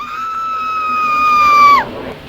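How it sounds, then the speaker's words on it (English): A single sustained, piercing scream from a video game's scream sequence, holding a steady tone and rising in loudness before breaking off abruptly, leaving near silence. "including this video game scream sequence"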